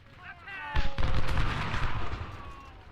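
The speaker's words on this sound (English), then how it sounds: "So if they want to shoot artillery at our skirmishers," Artillery fire in the Civil War strategy game Ultimate General, a loud booming blast followed by a rumbling, crackling volley that fades out over a few seconds, with faint tonal game sounds at the start.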